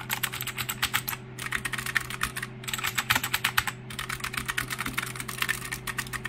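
Loud, brisk mechanical keyboard typing in several bursts separated by brief pauses, close up and without speech, on an older, louder, more hollow-sounding mechanical keyboard.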